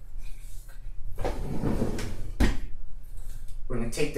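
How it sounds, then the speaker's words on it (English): Plastic wheels snap into the rear leg of a Graco Blossom 4-in-1 baby seat, a sharp single click standing out near mid-clip amid handling noise and someone talking throughout. "you're gonna pop these wheels right in. Just like that. Okay, hear the click."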